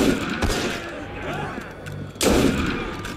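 Gunshots from a small handgun in Assassin's Creed Unity: a sharp shot near the start and another loud blast toward the end, with game ambience and faint voices in between.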